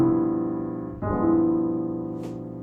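A rolled piano chord played with both hands rings out, followed by a second rolled chord about a second later and a faint light note near the end, sustaining and slowly decaying.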